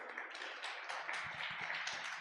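A church congregation applauds at a service, with dense, rapid clapping, quiet and continuous over a couple of seconds, plus a few sharper taps.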